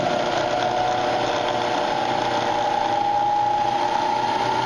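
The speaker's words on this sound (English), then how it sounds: "we turn our spindle on and we adjust our speed" The spindle of a Bridgeport milling machine runs with a steady, loud mechanical whine and hum throughout, with no talking.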